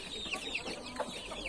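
Several backyard hens cluck in a quick, irregular series of short calls, fairly close and moderately loud against steady background noise.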